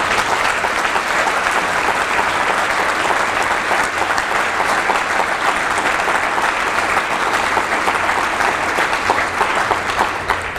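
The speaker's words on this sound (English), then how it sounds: "I hope you will indulge me by offering them collectively your applause and your thanks." Sustained, dense applause from a large audience at an Anti-Defamation League event, loud and even throughout, with no talk over it.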